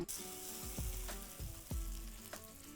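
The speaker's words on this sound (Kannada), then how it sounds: "ಈಗ ಏನು ಮಾಡೋಣ ಇದು ಒಗ್ಗರ್ಣಿನ ಚಟ್ನಿದಾಗ ಹಾಕ್ಕೊಳ್ಳೋಣ" Hot tempering is poured into a raw green mango chutney, bursting into a close sizzle and crackle, with a few soft stirring knocks as it settles; no one speaks.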